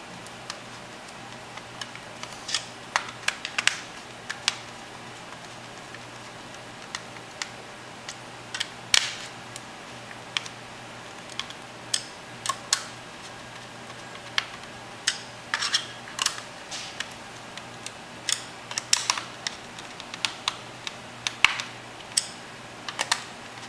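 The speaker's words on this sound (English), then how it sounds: "And we'll screw these back in." Small screws being driven back into an MSI Wind notebook with a screwdriver, heard as scattered light ticks and clicks at an uneven pace over a quiet background, close and without talk.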